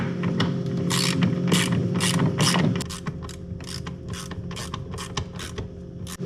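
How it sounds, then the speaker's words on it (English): Screw being driven into a KitchenAid or Whirlpool refrigerator ice maker to hold the tray assembly, giving a rapid run of ratcheting clicks close up, with a steadier mechanical whir under the first half that drops away midway. "This screw I'm putting in now is what holds the whole tray assembly in."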